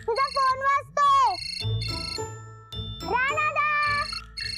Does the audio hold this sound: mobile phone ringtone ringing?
yes